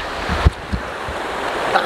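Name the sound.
strong river current flowing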